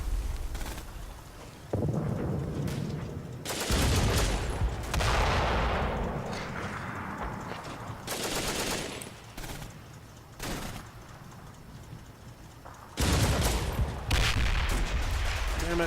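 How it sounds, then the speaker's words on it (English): A Hellcat tank destroyer in the WWII wargame Combat Mission fires repeatedly, with heavy booms and rumbling bursts arriving in spaced clusters amid battlefield noise and occasional talk. "My Hellcat opening up."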